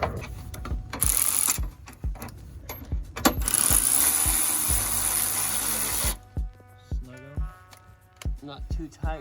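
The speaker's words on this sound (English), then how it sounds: "we're gonna bolt it in place." A ratchet wrench clicks in short repeated bursts while bolting an MBRP Pro Series cat-back exhaust bracket onto a 2019 Mustang GT, with a stretch of steady machine-like whirring and a voice talking over parts.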